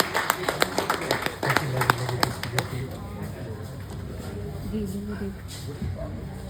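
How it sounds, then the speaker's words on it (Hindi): Scattered clapping at a retirement celebration, a few sharp claps at first that give way to murmuring talk and background chatter in a room. "जोरदार तालियों से अभिनंदन।"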